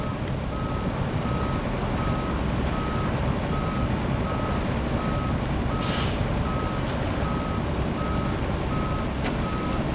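An off-road truck in the video game Expeditions reverses with a steady, evenly spaced backup beep over a constant loud engine rumble, with one brief hiss partway through.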